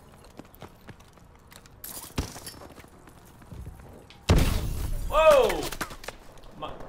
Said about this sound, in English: How did my own flashbang wreck me?